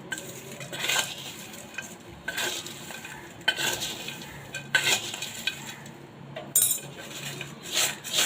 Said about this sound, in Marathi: आता हे सर्व मिक्स करून घ्यायचं आहे आधी चमच्याने हल हलवूया